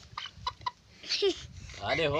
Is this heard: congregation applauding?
no